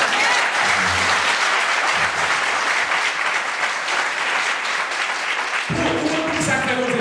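A church congregation claps in sustained, loud applause that carries throughout, joined near the end by a voice speaking over it.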